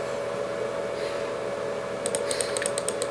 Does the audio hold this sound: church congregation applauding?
no